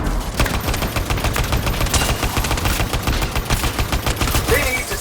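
Rapid, sustained gunfire in the video game Anthem, dense automatic bursts and overlapping shots rattling continuously at close range for several seconds.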